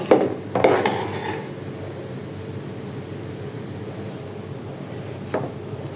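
Semai noodles are stirred in a frying pan: a few utensil clatters against the metal at the start, then a continuous soft sizzling hiss with one more scrape near the end.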